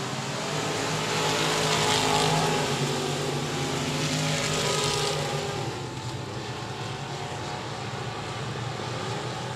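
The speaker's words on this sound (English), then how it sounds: "Followed by the number 90 of Tyler Green in the Punisher race car" Race car engines roar at Texarkana 67 Speedway, a loud sustained drone that swells and then eases slightly as the cars run the track.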